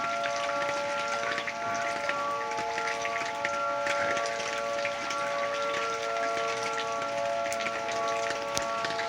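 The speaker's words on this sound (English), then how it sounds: "Just light rain." Light rain falling early on a Sunday morning north of Tulsa, a steady soft hiss with scattered drop ticks, under steady distant tornado sirens droning at several fixed pitches.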